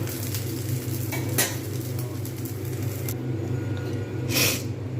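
Bengali soru chakli pitha frying in an oiled pan, a steady close sizzle with occasional scraping and clinks of a utensil against the pan.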